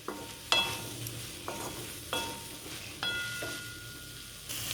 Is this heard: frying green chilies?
yes